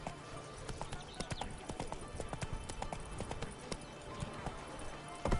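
In The Witcher 3: Blood and Wine, Roach trots along, hooves clip-clopping in a brisk, regular beat close up, sharp individual strikes over a soft game background.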